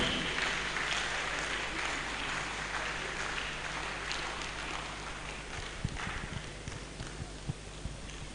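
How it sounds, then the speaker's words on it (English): An audience applauds at a building-industry conference in Nigeria. The clapping is a steady, dense wash that holds evenly for several seconds, with a few sharper knocks toward the end. "Let's applaud him."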